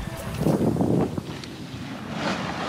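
Wind rushing past a sailboat at sea, about ten knots on the beam, a close, blustery roar buffeting the microphone with swells of gusts.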